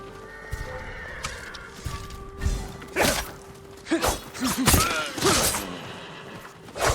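Horses at stables in the game Ghost of Tsushima, several loud whinnies and snorts over hoof clops and creaking wood, close by, with no speech.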